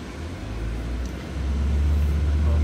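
A Mitsubishi Lancer drives through hairpin turns on a track, its engine and road noise forming a steady low drone that swells louder midway as the car pulls out of the bend.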